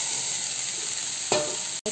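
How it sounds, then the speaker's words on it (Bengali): Soybean chunks and fried potatoes are stirred and sautéed in a pan, giving a continuous close sizzle with a brief louder scrape of the spoon near the end. "একটু নেড়ে চেড়ে দুটোকেই একটু কষিয়ে নেব।"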